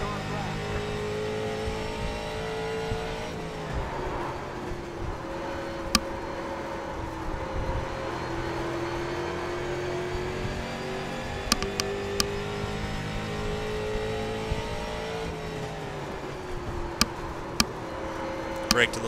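A Street Stock race car laps the USA International oval in iRacing, its engine droning continuously as the pitch sags into the turns and climbs again on the throttle, with a few sharp clicks and brief tire noises over the steady hum.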